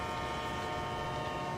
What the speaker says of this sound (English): we'll honk the horn